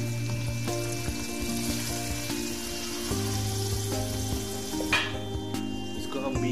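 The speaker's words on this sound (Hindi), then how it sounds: "सारा मसाला जो है वो अच्छी तरह जो है वो डाल लेंगे इसी चिकन में। हम अच्छी तरह हिला लेंगे।" Chicken karahi with dahi and masala, dhaba style, sizzling steadily in a pan while being stirred, with a continuous frying hiss and occasional louder scrapes over a low steady hum.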